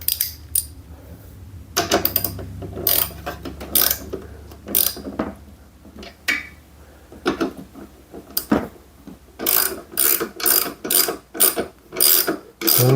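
Ratchet wrench with an extension tightening bolts on an off-grid solar panel mount, heard as bursts of quick metallic clicking strokes with clanks of metal parts, fairly close, with no talk.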